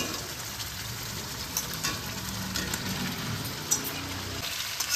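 Fried jackfruit and potato sizzle and fry in a pan with boiled goat liver, producing a steady, close crackle with light stirring and no talk.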